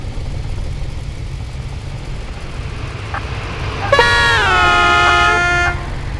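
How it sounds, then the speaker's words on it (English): A high-pitched truck horn in the mobile horror driving game Closed Area blares suddenly and holds for about two seconds before cutting off, loud over a steady low engine drone. "this thing honks at you, and it's a weird high pitch horn"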